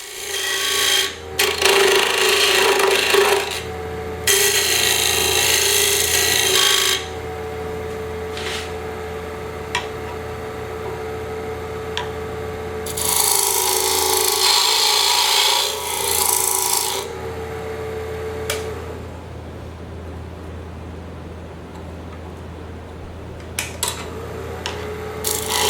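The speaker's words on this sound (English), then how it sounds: "I've got a scraper that's set to the same angle as a dovetail, and I can use that to shape the tenon" A scraper shapes a dovetail tenon on a wood lathe in repeated bursts of harsh rasping contact, loud and close, separated by quieter stretches where the spinning workpiece and motor hum carry on alone.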